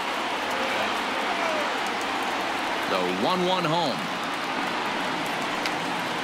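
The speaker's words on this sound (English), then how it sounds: "the rain starting to intensify here. It's coming down a little heavier now." Rain pours over a baseball stadium during a night game between the New York Yankees and Houston Astros in Game 4 of the 2019 ALCS, a steady dense hiss under a commentator's voice.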